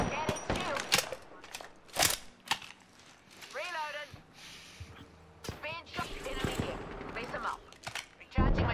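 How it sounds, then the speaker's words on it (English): Apex Legends gunfire crackles in sharp bursts and single shots at moderate volume, mixed with game effects and someone talking throughout. "Shots fired, and they're hitting me."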